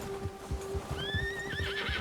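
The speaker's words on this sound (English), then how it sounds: "My horse got scared of me." A horse in Red Dead Redemption 2 gives a rising, wavering neigh partway through, over a steady bed of hoof clip-clop and ambient game sound, fairly close.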